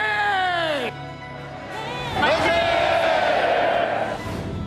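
A large crowd shouts manse (hurrah) in unison at the 103rd March 1st Independence Movement Day ceremony in Korea, loud sustained cheering voices in two long bursts.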